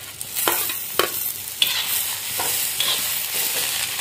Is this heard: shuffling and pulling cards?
no